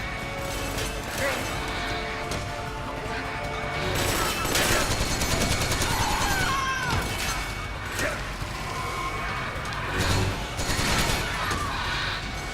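Gunfire in the stealth action video game Metal Gear Solid 4: Guns of the Patriots, with dense bursts of shots, clanks and crashes mixed into loud, busy game sound.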